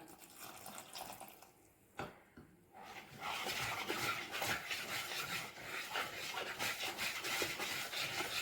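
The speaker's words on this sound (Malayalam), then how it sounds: "നല്ല കട്ടകളൊന്നും ഇല്ലാതെ വേണം നമുക്കിതൊന്ന് മിക്സ് ചെയ്തെടുക്കാൻ" Semolina batter is stirred with water in a bowl, producing a soft, wet, steady scraping and sloshing that grows busier after a quiet start.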